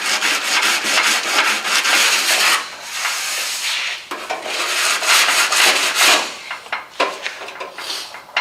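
Hand sanding with 80 grit sandpaper along the edge of a car door skin, close and loud, with rapid back-and-forth rasping strokes in an uneven rhythm and short pauses between passes.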